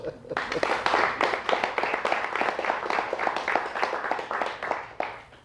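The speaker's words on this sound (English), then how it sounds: "Give me a round of applause." A round of applause from a lecture audience at a free NLP talk, crisp individual claps forming a lively, close rhythm that swells early and tapers off near the end, with some voices mixed in.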